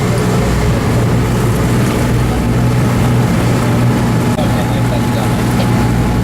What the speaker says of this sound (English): the engine's a bit noisy up here